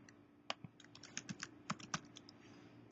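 Quiz answers are typed on a computer keyboard, a quick irregular run of soft, close key clicks over a faint steady background.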